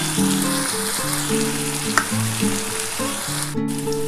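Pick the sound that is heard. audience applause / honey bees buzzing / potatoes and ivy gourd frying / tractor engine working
potatoes and ivy gourd frying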